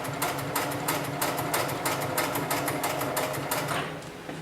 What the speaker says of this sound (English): set my foot back down and continue sewing